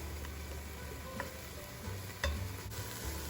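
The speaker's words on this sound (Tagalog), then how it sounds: "So I cook the chicken and the mushroom separately. This is how I cook it." Chicken and mushroom sizzling as they fry in a pan, with a steady soft crackle and occasional utensil stirring clicks and scrapes, close and fairly quiet.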